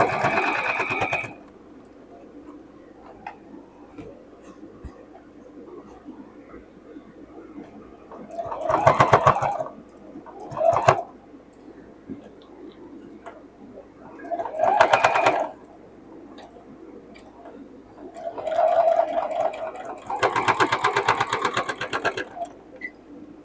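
Sewing machine stitching a circle bag in short separate bursts with quiet gaps between, moderately loud, a faint voice now and then.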